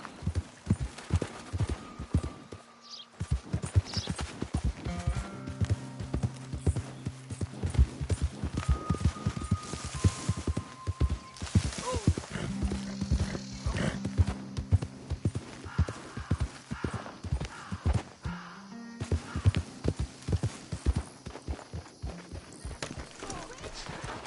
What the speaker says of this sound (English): What's that horse doing in here?